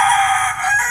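A fighting rooster crows loudly and close by in one sustained, strained call lasting under a second, with no other sounds around it.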